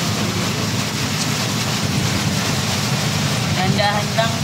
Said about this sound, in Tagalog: Grabe ulan mo.